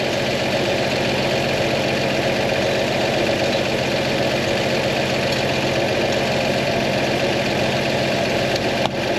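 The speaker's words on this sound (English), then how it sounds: "Wow, it's running on its own. It's running on its own gas tank. Idling, the carburetor's working." A carbureted engine idles steadily on its own fuel tank, a continuous rumbling drone with a slight knock, close and even throughout with no talk.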